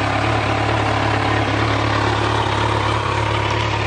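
A brand-new 2014 Kawasaki Z1000 ABS motorcycle idles with a steady, even low exhaust rumble, close and loud throughout, with no revving and no talking.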